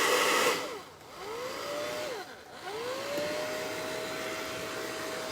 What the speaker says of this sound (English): give this a little blow dry